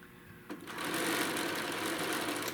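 A sewing machine starts up and runs steadily, stitching a quilt tack through a quilt, its fast mechanical whirr close and continuous after a brief quiet start.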